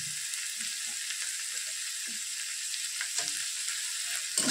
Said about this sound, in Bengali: দিয়ে আবার একটু ভালো করে কষিয়ে নেব